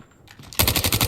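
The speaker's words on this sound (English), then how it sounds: "Sentry gun deployed." A deployed sentry gun in a first-person shooter opens fire after a quieter lead-in, unleashing a loud, rapid automatic burst of evenly spaced shots.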